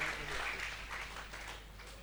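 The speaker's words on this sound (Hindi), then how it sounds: "आप खुल के ताली बजा सकते हैं" An audience at a Hindi humorous poetry gathering in Delhi applauds, a soft, fairly distant patter of many hands that fades gradually over a couple of seconds.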